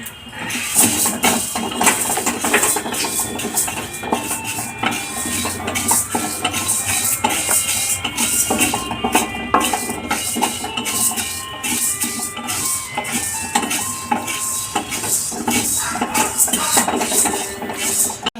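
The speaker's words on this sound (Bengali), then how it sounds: "আমি তাহলে বিউলির ডালটা ভেজে নিই বিউলির ডালটা একটু লাল লাল করে ভেজে" Urad (biuli) dal roasts in a pan until reddish, with continuous scraping and clattering of a metal spatula against the pan, rhythmic and close, over a steady hiss for the whole stretch.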